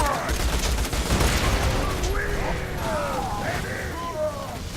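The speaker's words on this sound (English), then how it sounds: "I'll take his shield down with this electric gun" Electric weapon fire in the Borderlands 2 shooter, rapid crackling bursts mixed with zapping, whining effects and game noise, dense and continuous at close range while a voice talks over it.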